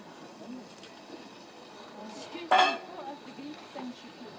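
Spinach and pasta tossed into a pan while cooking, with a sharp clatter of pan and utensil near the middle over a steady background of kitchen bustle.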